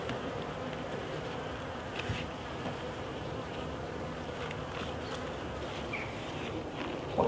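Honey bees buzzing steadily around an open hive during mite treatment in a UK apiary, a soft continuous swarm hum with individual bees passing close now and then.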